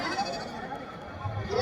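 A goat bleats at a village livestock market in Pebbair, a short nearby call with a wavering tone over background market noise.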